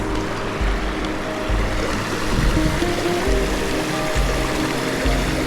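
Fresh water flowing in a stream on a long hiking trail, a steady close rushing and gurgling that stays even throughout with a few low bumps.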